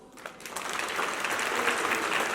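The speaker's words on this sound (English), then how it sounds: "So I want to give them a round of applause" Conference audience at a children's disabilities symposium applauding volunteers; clapping swells quickly after a brief start and stays loud and dense through the end.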